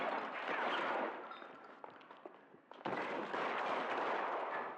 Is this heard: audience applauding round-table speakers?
no